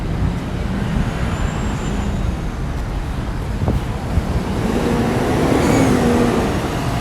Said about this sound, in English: Look at the traffic over here.